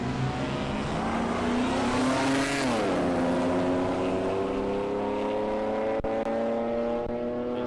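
A supercharged Ford Bronco runs at a drag race at Palmyra Raceway, its engine droning loud and steady with a rising then shifting pitch, heard from a distance across the strip.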